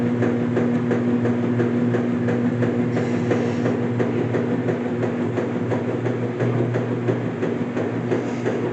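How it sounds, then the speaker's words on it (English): A Maytag washer runs a Normal cycle loaded with towels, a steady loud mechanical hum and rumble with a low drone and faint rhythmic clicking throughout, no voices. "Even though it is kind of louder than my current washer at home."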